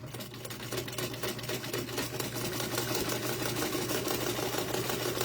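A sewing machine back stitches a quilt block with a fast, steady mechanical whirring and needle chatter, close and continuous without speech.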